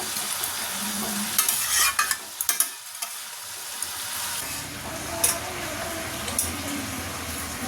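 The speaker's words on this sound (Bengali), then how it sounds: "চলো এবার এটাকে একটুখানি ফুটতে দেবো" Fish curry simmering and frying in a pan, with steady close sizzling and bubbling, a few louder stirring scrapes and clatters, no talk.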